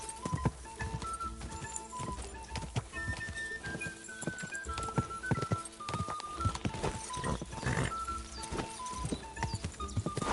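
Clip-clop of a horse's hooves galloping in Kingdom Come: Deliverance II, a steady rhythmic beat of hoofbeats mixed with game music and effects, with no talk.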